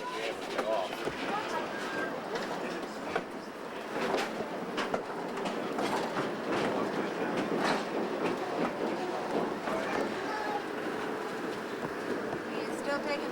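A Mount Hood Railroad train rolling along in 1993, its steady rumble and faint clickety-clack of wheels running continuously beneath people chatting nearby.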